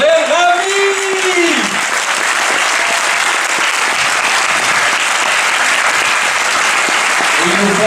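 A premiere audience applauds the film team of Rebelles, a loud, dense, steady wash of clapping that runs throughout with a few voices mixed in near the start and end.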